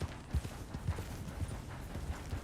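Horse hooves clip-clop in the Red Dead video game, a soft, evenly spaced series of low thuds at a walking pace, heard quietly over a faint background hum.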